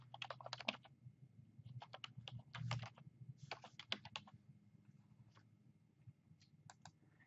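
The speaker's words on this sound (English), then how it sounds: "And then we could just go ahead and type those in." Bursts of clicky computer keyboard typing come in uneven clusters of rapid keystrokes with short pauses, close and fairly quiet, with no talking.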